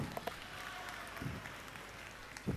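Audience applause at a college session on mental health: scattered clapping, fairly faint and distant, with a brief louder burst near the end.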